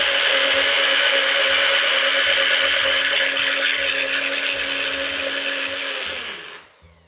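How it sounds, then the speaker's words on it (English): A countertop blender runs steadily, whirring a creamy oil-free vegan ranch salad dressing at high speed for several seconds before spinning down at the end; loud and close, with no talk. "I'm just going to blend it for probably a total of 1 minute"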